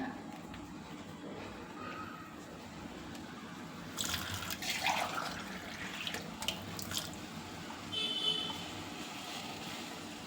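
A quiet background gives way to a glass of water poured into a pot of mutton, a bright splashing gush in two bursts, with faint clinks in between.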